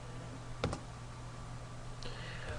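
A few scattered clicks of keys on a computer keyboard stand out faintly against a steady electronic hum, with one brief pair of taps early and a softer tap later.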